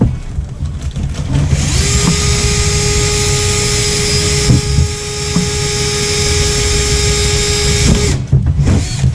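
A power drill drills a hole on a track bike build, whining steadily for several seconds at close range, starting and stopping abruptly, with faint handling noises before and after.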